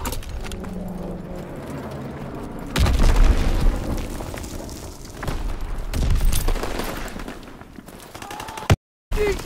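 Loud bursts and deep booms of grenade explosions in the World War II shooter Call of Duty WW2, mixed with rattling gunfire across a team deathmatch round, with a heavy blast near the start and repeated rumbling impacts.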